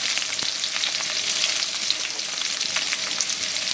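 Cabbage and capsicum sauté in a pan with a steady, even sizzle, close and constant, with occasional faint stirring ticks and no voices.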